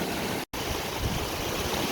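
A small branch of a mountain stream on the Timberline Trail rushes in a broad, steady wash close by. A brief dropout cuts in early, and no one speaks.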